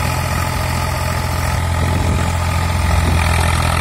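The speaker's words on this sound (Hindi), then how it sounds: "दोस्तों ट्रैक्टर का साउंड भी सुन सकते हैं आप," An Eicher 485 tractor engine runs steadily nearby with a deep, throbbing low rumble, loud and even throughout, with no talking.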